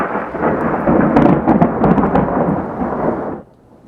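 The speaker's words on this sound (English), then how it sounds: "Thunder across the area as a storm hit San Diego County, bringing heavy rain, wind, and hail." Heavy thunder rolls through a storm with driving rain, wind and hail over San Diego County, a loud continuous rumble and downpour that cuts off abruptly near the end.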